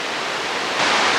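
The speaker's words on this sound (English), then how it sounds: "Obviously, it is not one waterfall, it's a system of waterfalls." Steady, dense roar of the Iguazu Falls waterfall system in Brazil, a loud broadband rushing wash that swells slightly louder near the end, with no voices.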